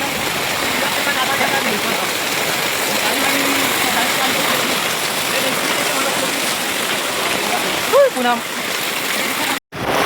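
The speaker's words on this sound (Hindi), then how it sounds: "इतना पानी गिरा थे अभी भी ऐसे पूरा बाढ़ आगे टाइप लगा थे" Floodwater pours across a village road after heavy rain, a steady loud rushing wash with a brief splash near the end and possible faint voices beneath.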